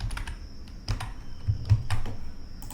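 Computer keyboard keys clack in short irregular clusters as code is typed, close and moderately loud, with brief pauses between keystrokes.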